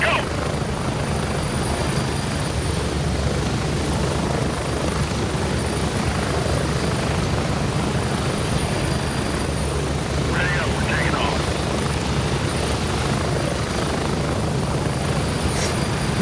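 Helicopter rotor blades in Gray Zone Warfare thump steadily and loudly as a dense, continuous roar fills the whole stretch, with no pause.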